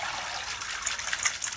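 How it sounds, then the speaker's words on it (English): Running water gushes and splashes steadily while live Louisiana crawfish are rinsed in a container outdoors, a continuous bright rush with small splashes and clicks. "See how the water's getting nice and clear now?"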